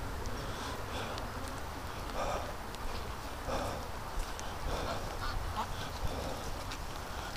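Ducks, including Muscovy ducks, in a pen giving repeated soft quacks and murmurs over constant outdoor noise, low in level and spread through the whole stretch.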